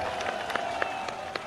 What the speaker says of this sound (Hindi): पुलिस वालों के लिए ताली बजाओ